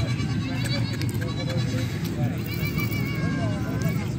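Beetal goats at the Faisalabad livestock market bleat in short, wavering calls scattered through a loud, crowded hubbub, with someone talking steadily over them.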